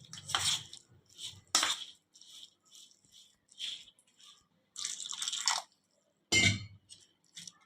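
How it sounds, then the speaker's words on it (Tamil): Water is stirred into a rava and curd batter, giving intermittent scraping, clattering bursts of a utensil against the bowl with short silent gaps between strokes, close and fairly quiet. "தண்ணி சேர்த்து நல்லா கலந்து விட்டுலாம்."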